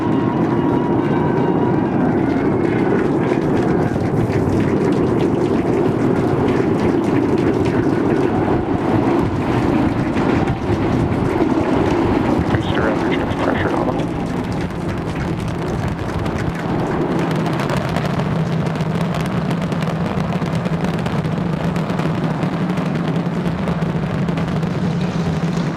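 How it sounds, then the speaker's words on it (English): The 33 Raptor engines of a SpaceX Starship Super Heavy booster roar after liftoff, a continuous broad rumbling crackle like heavy rain and thunder, steady and loud for the whole stretch, easing slightly midway, with no voices. "We are seeing 33 out of 33 Raptor engines ignited."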